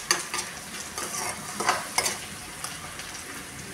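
Okra and potato pieces frying in a pan give a continuous close hiss, with a handful of brief scraping stir strokes and soft utensil knocks spread through it and no voices.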